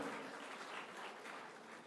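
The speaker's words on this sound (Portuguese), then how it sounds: "Dê uma salva de palmas para Jesus." A church congregation applauds during a sermon, a dense, even patter of clapping heard alone and fairly soft.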